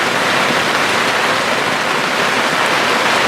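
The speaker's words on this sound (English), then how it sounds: "It's pouring down" Heavy rain pours down at a marina in Norway, a loud, steady, unbroken wash of hiss and patter with no other sounds standing out.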